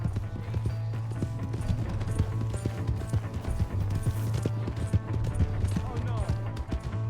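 Rhythmic clip-clop of a galloping horse's hooves runs steadily throughout, set against a constant low hum and busy game sounds in the video game Red Dead Redemption 2.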